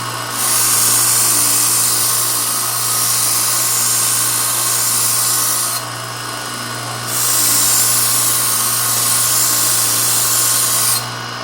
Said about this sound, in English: As you can see, I've spun the grinder around. It's now facing me. What that's going to do is pull it away from me and convex the edge.